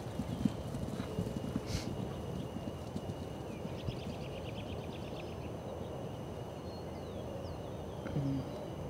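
Racehorse filly jogging, a steady rhythmic clip-clop of hooves on the ground outdoors, with a brief whinny and some birdsong in the background.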